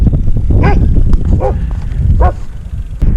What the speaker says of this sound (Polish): Już wiem, że to jest chyba pies.